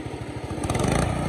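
A lawnmower engine revs at full throttle, loud and close, its rapid firing pulses quickening into a harsher, rising roar partway through.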